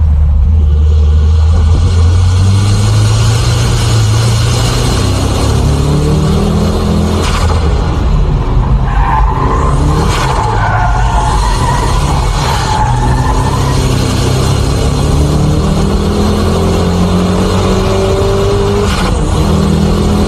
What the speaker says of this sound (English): I'll demonstrate the braking drift with this K-Office S14